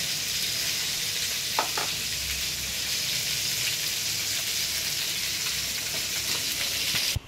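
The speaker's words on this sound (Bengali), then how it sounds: "এই যে মাছগুলো ভেজে নিতেছে কড়া করে।" Rohu fish pieces frying crisp in a home kitchen pan for a papaya curry, a dense, continuous sizzle with a couple of faint clinks, steady and close.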